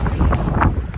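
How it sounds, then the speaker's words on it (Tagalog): Wind blows at an upstate New York Chinese temple, gusty buffeting close to the microphone in a brief, loud, rough rush with no voices. "hangin"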